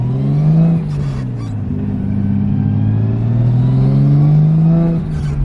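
Nissan R33 Skyline engine with a small turbo, a loud, close droning hum that rises and falls smoothly in pitch as the car drives, with a brief airy hiss near the start.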